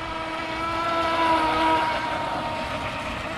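A tunnel hull RC boat runs at full throttle, its high-pitched motor whine holding steady and swelling slightly as it passes at moderate distance over open-air background noise.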